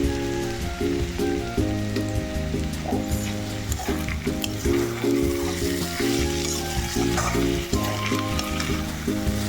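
A bean filling for kochuri fries in a pan with a constant, loud sizzle and occasional stirring scrapes, under continuous tonal background music.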